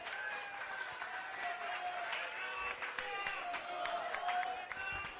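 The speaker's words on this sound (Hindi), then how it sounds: "खड़े खड़े पूरी जनसभा अटेंड करने वाले मेरे आप सभी भाई बहनों के लिए जोरदार तालियां" Applause from the standing audience at a public rally in India, a sustained wash of clapping with crowd murmur running steadily and fairly distant throughout.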